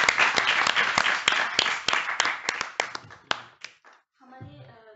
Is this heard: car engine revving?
no